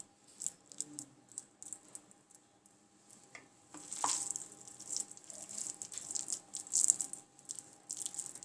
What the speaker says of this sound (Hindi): हम साथ साथ ही इसको फ्राई करते जाएंगे